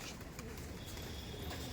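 Giribaz pigeons in a home loft in Duttapukur, faint soft cooing over a low, quiet background.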